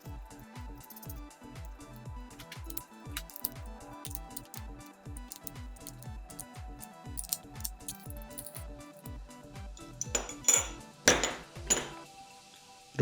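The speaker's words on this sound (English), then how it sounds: "Then put the nut and tighten it." A nut is tightened onto a bolt through a ruler hole while assembling an MPCNC machine, giving rapid, steady metallic clicks and clinks close up, with a few louder knocks near the end and no talking.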